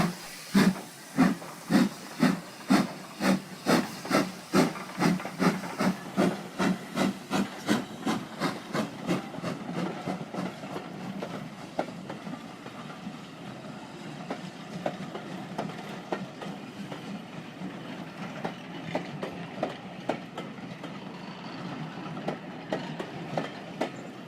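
Steam locomotive 1638 on the Bluebell Railway pulls out of Horsted Keynes station, heard from outside the carriage, its loud rhythmic chuffs starting slow and spaced, then quickening into a steady fainter beat with a background hiss of steam.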